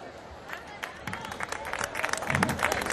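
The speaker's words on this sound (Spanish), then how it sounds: "Un fuerte aplauso para ella." An audience at an evening serenade in Samuel Pastor applauds a female singer. The clapping is scattered and fairly faint, then builds to denser, louder applause mixed with crowd murmur.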